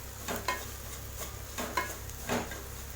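A potato bonda masala mixture with chopped ginger and asafoetida being stirred in a pan, giving three soft scraping strokes with a faint sizzle underneath, fairly close and quiet, with no talking.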